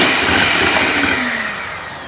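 A mixer churns ground fish meat at low speed, giving a steady, loud motor whir that runs continuously and fades slightly toward the end, with no voices.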